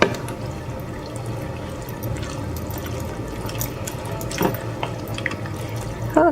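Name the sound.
stirring navy beans in a pot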